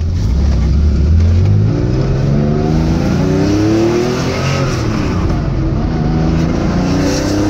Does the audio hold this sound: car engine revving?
yes